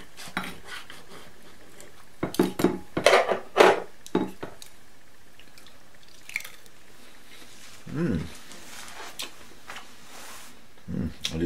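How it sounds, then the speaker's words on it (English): A knife clinks and scrapes against a plate while crepes made with vanilla sugar are eaten in a cabin, scattered sharp contacts and soft chewing sounds with quiet gaps between. "I'll try it with a knife here"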